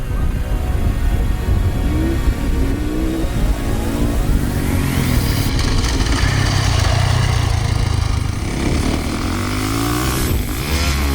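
A Yamaha YZ450F dirt bike ridden hard, its engine loud and close as it revs up and down through the gears, with rising and falling pitch and a missed shift near the end.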